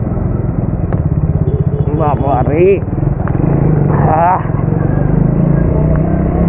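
Triumph motorcycle engine running steadily on a night road at an organised ride event, a continuous close rumble throughout with people talking over it.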